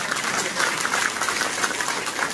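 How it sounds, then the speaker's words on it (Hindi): Audience applause at a hotel meeting program, a steady dense wash of clapping from a crowd sustained evenly throughout. "एक जोरदार ताली होनी चाहिए"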